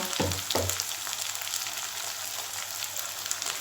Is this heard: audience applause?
no